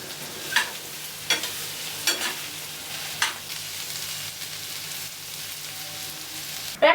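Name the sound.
spiny gourd frying in a pan while stirred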